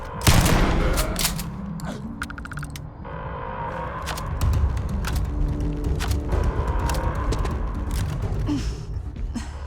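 Gunfire in the Starfield video game, with bursts of dense rapid shots and single cracks ringing out over a busy mix of combat effects and background score for the whole stretch.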